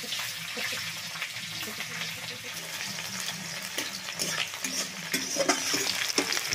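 Chopped onion fries in hot oil in a pan over an old-style home cooking fire, giving a steady, dense sizzle with stirring scrapes. It grows a little louder toward the end, and no voices are heard.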